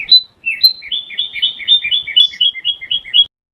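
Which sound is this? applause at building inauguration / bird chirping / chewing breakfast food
bird chirping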